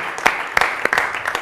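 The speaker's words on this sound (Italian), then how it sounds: "Facciamo un applauso" An audience claps briefly in a short burst of applause, with a few sharper individual claps standing out over the wash.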